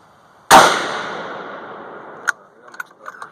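A single loud .450 Bushmaster rifle shot, loaded with Hodgdon Lil'Gun powder and Hornady 200-grain FTX bullets, cracks sharply and rolls off in a long echoing decay, followed by a few faint clicks.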